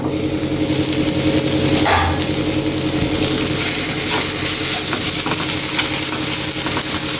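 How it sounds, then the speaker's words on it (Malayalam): Spinach thoran being stirred in a pan over low flame: a steady soft sizzle with scraping and rustling from the stirring, moderately loud and continuous, with no talking. "ഒന്നും കൂടി നമുക്ക് ഇതേപോലെ ഇളക്കിയെടുത്ത് നന്നായിട്ട് ഒന്നും കൂടി വേവിച്ചെടുക്കാം"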